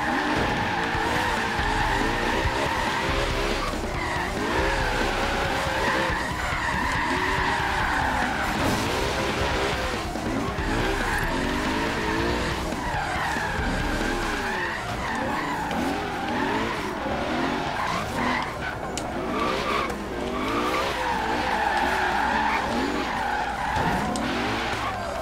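Tires screeching and skidding as cars drift in Forza Horizon 3 in a parking lot, long wavering squeals over engine revving that rise and fall repeatedly and continuously, loud, with no talk.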